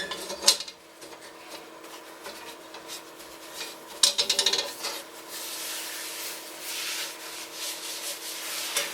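A cloth or towel wipes excess seasoning oil off cast iron cookware, giving a close, continuous rubbing and scraping with a few sharper knocks against the metal, heard alone without speech.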